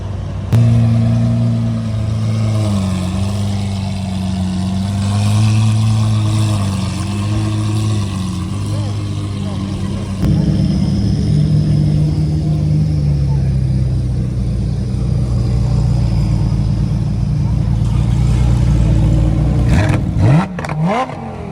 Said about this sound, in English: We've got the very loud Zintani Lamborghini SV.